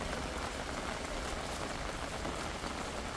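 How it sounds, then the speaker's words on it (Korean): Rain falling outside during a heavy summer downpour, a steady even hiss of drops with no breaks, fairly quiet and with no voices. "빗소리가 조금씩 조금씩 밖에 안 들리는 거 보니까"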